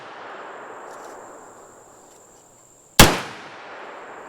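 A Beretta PMX-S fires a single loud, sharp 9mm shot with the brace folded, breaking a quiet outdoor background before a short echoing decay.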